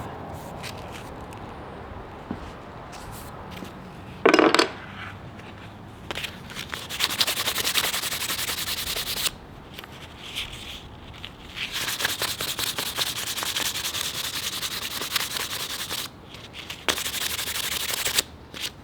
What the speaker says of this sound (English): This is like a butter spreader. Slightly sand it.